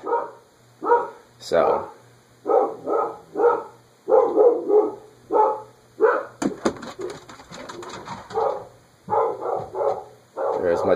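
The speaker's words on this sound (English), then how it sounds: "there is much barking upstairs" Muffled barking comes from a dog upstairs in repeated rhythmic bursts that grow louder and denser partway through, while a person talks in the room below.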